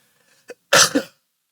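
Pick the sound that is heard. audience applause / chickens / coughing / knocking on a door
coughing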